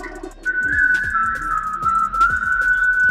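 The melody of a song from Snow White is whistled as a clear, sustained, steady tune over a bouncy backing track with a plucked bass line.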